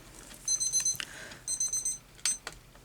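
Repeated bursts of shrill electronic beeping from a kitchen timer, rapid pulses in two groups with clicks and light handling noise between.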